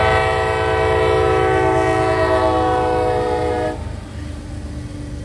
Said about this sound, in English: With a horn like that, it's an SD70.